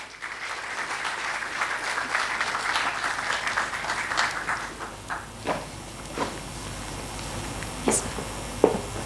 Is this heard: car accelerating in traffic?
no